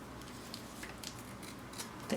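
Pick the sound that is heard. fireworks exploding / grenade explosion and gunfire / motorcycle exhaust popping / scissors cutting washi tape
scissors cutting washi tape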